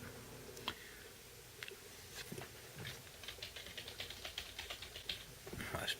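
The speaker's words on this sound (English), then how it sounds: "type some more" Keys clatter on a computer keyboard attached to a Windows XP machine, a fairly quiet run of quick taps with short pauses, the keystrokes growing denser and steadier toward the end.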